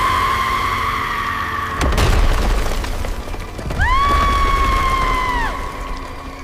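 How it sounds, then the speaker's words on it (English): A sharp crash and crumbling burst as a statue shatters into gravel and clay chunks, followed by a rising, wavering shriek over a low rumbling background. "It shatters completely, exploding into a spray of heavy gravel and clay chunks."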